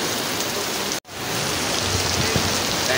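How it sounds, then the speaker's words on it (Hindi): Heavy rain pours at an outdoor goat and livestock market, a loud, dense, continuous hiss of drops on surfaces, broken once by a brief dropout before resuming at full strength. "ये देखिए बारिश काफ़ी ज़्यादा तेज़ है"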